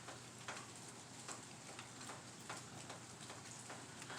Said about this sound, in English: that little ding ding ding I can hear from the rain is really annoying